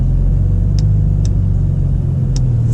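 A 2021 Porsche 992 Turbo driving on a twisty road, seen from inside the cabin, with a loud, steady low engine and road rumble and a few faint clicks, no voices.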